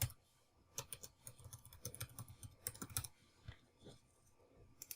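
Typing on a computer keyboard to enter a server address, with quiet, irregular bursts of key clicks separated by short pauses and no talking.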